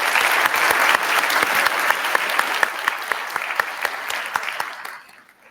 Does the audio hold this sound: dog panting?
no